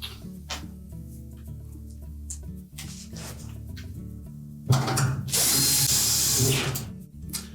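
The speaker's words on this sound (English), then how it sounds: "we'll reinstall the screws in the bottom." Power drill driving screws into the bottom of a Whirlpool washer's front panel, a steady close whir with bursts of louder high-pitched grinding toward the end, no talking.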